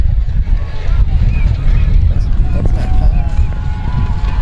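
Steady wind buffets the microphone at a high school football game, a dense, constant roar with low rumble running alone throughout.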